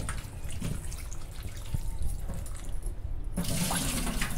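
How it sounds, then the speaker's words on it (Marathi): Water splashes and runs as salted potato sticks for french fries are rinsed, a continuous close wash with drips, swelling into a brighter gush near the end. "पुन्हा एकदा ह्याच्यातनं पाण्यातनं धुवून काढायचं"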